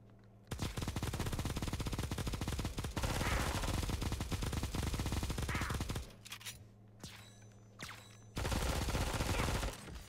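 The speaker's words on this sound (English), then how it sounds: "That 200 ammo turret sprayed over the wall." Rapid automatic fire from a 200-ammo turret in the mobile shooter Bullet Echo, loud dense bursts rattling almost continuously for several seconds, then a short gap of scattered shots before another sustained burst.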